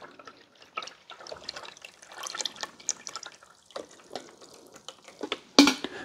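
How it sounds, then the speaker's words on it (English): Water splashes and trickles into the reservoir at the back of a Mr. Coffee 12-cup Rapid Brew coffee maker, an uneven series of close pours and drips ending with a brief louder splash. "Now you need to pour the water in the back."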